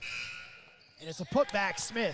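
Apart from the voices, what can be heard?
basketball shot clock buzzer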